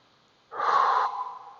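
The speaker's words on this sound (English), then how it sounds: "Inhale and exhale" A single breath during a lower-body mobility class, taken from a kneeling position: one soft, airy breath lasting about half a second, close and clear, then fading into quiet.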